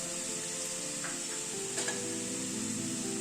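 Green peas land in a hot pan of spiced masala and sizzle steadily, a close, even hiss with a brief louder burst midway.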